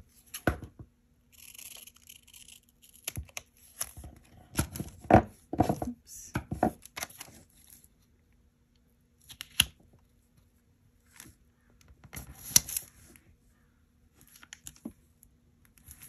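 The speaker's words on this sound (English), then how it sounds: "I might cut the books down just a little bit." Scissors cut paper while a small planner spread is trimmed, giving bursts of crisp snips and rustling handling that come in clusters with short pauses, close and fairly loud, with no talk.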